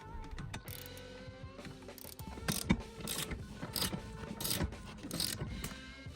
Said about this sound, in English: if you have a ratcheting wrench, it makes the job way easier